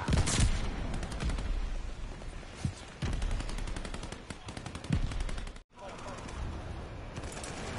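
A Death Machine minigun fires in Call of Duty: Vanguard, a loud sustained rattle of rapid shots that breaks off briefly and resumes, with a voice talking over it.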